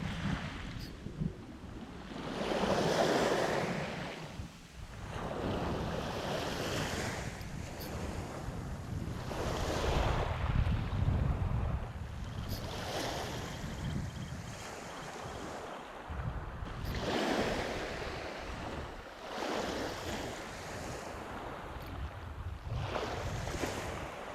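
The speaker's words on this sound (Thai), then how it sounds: "ลมก็เริ่มมาแล้วทุกคน" Strong wind buffets the microphone as waves wash onto a shoreline at the lowest tide, with surges rising and falling every few seconds and no one speaking.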